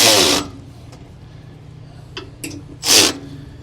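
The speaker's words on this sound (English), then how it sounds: "I'm just going to use an electric ratchet to kind of cinch it down first." An electric ratchet cinches down bolts while a high-performance feed accelerator is installed, giving two short, loud whirring bursts, one at the start and one near the end, with faint clicks and handling noise between.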